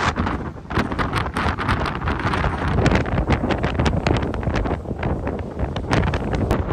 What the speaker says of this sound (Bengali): এখানে আসলে প্রচুর বাতাস, প্রচুর বাতাস